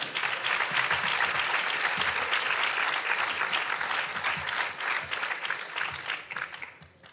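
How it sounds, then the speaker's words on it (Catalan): An audience at a commemorative event for the women of Ribera d'Ebre gives a sustained round of applause, loud and dense clapping from many hands that holds steady, then fades out in the last second. "Un aplaudiment per elles."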